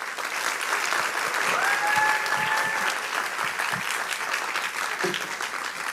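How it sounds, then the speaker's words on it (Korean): A church congregation at a Sunday service applauds and cheers to welcome a missionary to the front, a steady dense wash of clapping with a couple of rising whoops or whistles partway through. "큰 박수와 함성 소리로 우리 맞이하도록 하겠습니다"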